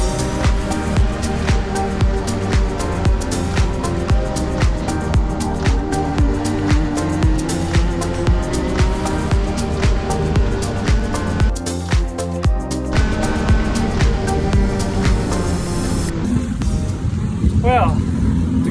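Go-kart engines buzz and drone steadily during a race, one close engine dominating with a constant high-revving whine over most of the stretch, and a voice speaks briefly near the end.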